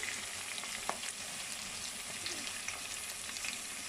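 Food fries and browns in a pan before onion and carrot go in, a quiet, even crackling sizzle running throughout with faint scattered pops.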